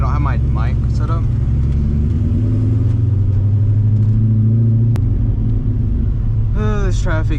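A cammed C5 Corvette with a manual gearbox cruises in traffic, its engine giving a loud, deep rumble heard from inside the cabin under steady wind noise, with someone talking at the start and end.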